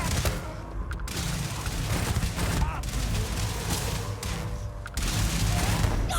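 EM rifle gunfire in the sci-fi game Starfield, with dense, continuous bursts of shots and booms filling the scene and a few brief gaps between volleys, set among loud combat noise.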